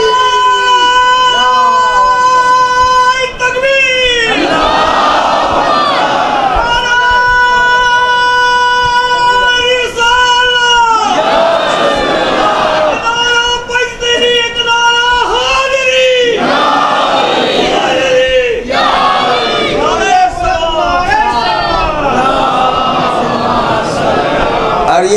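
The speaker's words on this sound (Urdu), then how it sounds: "اتنی دیر سے آپ نعرے لگا رہے تھے" A large crowd at a majlis religious gathering during Azadari in Kanoda loudly chants religious slogans in repeated, drawn-out collective calls with swelling roars and brief pauses between them.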